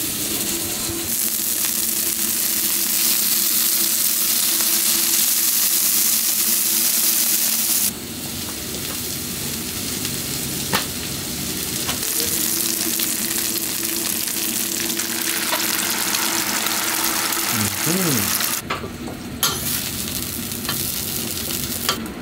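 Turkey bacon frying in a pan gives a loud, steady, close sizzle, broken by occasional scrapes and taps of a utensil, and a brief higher-pitched clatter near the end.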